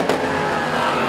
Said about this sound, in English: Through come the remaining cars to complete the laps in their positions on that